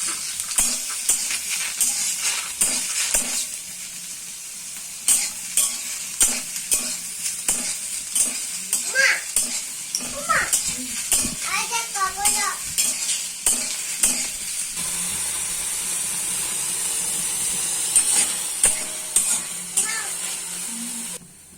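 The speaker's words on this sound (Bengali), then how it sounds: "তো সেটা আমি গরম কড়াই আগে দিয়ে দেবো চিংড়িটা" Small prawns dry-frying without oil in a hot kadai, a steady sizzle broken by frequent scraping and clattering stirs of a spatula, close and fairly loud, with brief chirpy voice sounds in the background.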